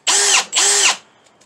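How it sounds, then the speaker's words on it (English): A Milwaukee M18 Fuel combi drill whirs in two short, loud bursts with a brief gap between them, then falls silent. "It's a combi drill. It does drilling."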